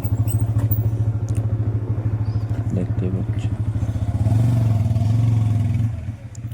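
A motorcycle idles close by with a steady low engine rumble, then revs briefly before cutting back as it is brought to a stop beside a field at a workplace; a person speaks briefly over it.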